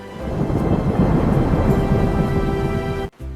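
Thunder from an approaching storm at the beach, a loud sustained low rumble with rain noise that cuts off abruptly near the end.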